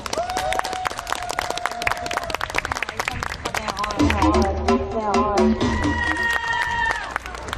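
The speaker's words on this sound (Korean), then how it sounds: "여러분 박수 부탁드리겠습니다" An audience at a Korean dance show applauds a dance team coming on stage, steady clapping and crowd noise mixed with loud music and a host's voice throughout.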